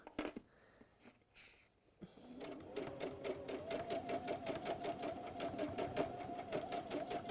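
A sewing machine runs forwards and back through a seam in several layers of fabric, its close, rapid rhythmic stitching continuing steadily for about five seconds after a few quiet handling sounds.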